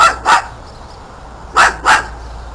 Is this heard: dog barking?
yes